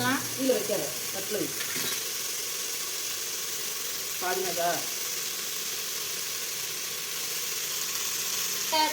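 Tomato rice with mint and coriander being stirred in a pan, a continuous frying sizzle with intermittent scraping and clattering of the spoon, while a voice talks over it in short bursts.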